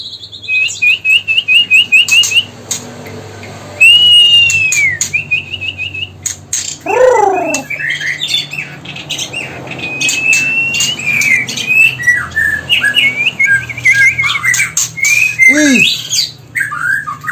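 Songbirds, including a breeding female, give bright trilling calls and sharp chirps in close, overlapping bursts throughout, with a few louder squawks and no talk.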